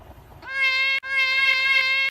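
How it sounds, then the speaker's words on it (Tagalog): A mother cat straining in labour lets out two loud, drawn-out meows in close succession, near and clear, split by a brief breath. "hanggang ngayon di pa rin tapos manganak yung pusa"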